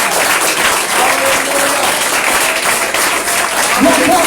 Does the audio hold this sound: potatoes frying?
no